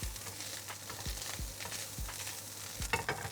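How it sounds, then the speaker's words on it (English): Food sizzles in a hot pan while being quickly stirred and tossed, with several distinct scraping strokes over a steady frying hiss. "Mix it through quickly."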